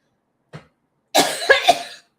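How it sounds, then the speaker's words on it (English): A person coughs close up: one small throat sound, a brief pause, then a harsh fit of two or three rough, explosive coughs run together, as if a drink of lemonade went down the wrong way. "why can't I stop coughing?"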